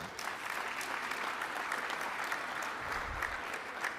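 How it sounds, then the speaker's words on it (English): Audience applause at a military symposium in Huntsville, Alabama, a steady patter of many hands clapping at moderate distance throughout, fairly soft and even. "Let's give that a round of applause."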